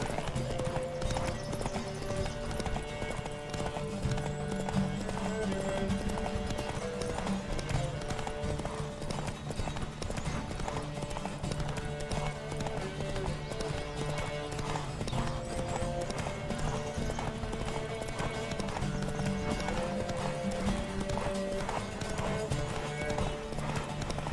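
Steady clip-clop of galloping horse hooves during a horse race in The Witcher 3, over a dense, continuous backdrop of music and game sounds, with an occasional whinny.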